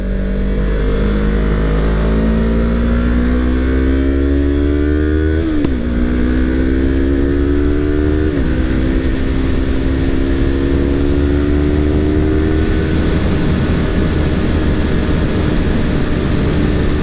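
A motorcycle rides along a damp, gravel-strewn road, its engine droning loud and close throughout with a steady low rumble, and the pitch rising smoothly through several gear changes.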